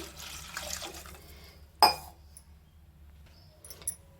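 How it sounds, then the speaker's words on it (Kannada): Water poured into a cooking pot already holding tomato, turmeric, chillies and a spoon of oil for a vegetable curry, a soft steady splashing pour followed by a single sharp metallic clink, with a faint clatter near the end. "ಒಂದು ಗ್ಲಾಸು ನೀರು ಹಾಕಿ"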